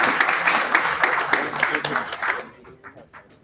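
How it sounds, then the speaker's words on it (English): Applause from the audience at a faculty ChatGPT hackathon, a burst of clapping mixed with voices that fades out near the end, leaving a few scattered claps. "A round of applause, please, everyone, once again."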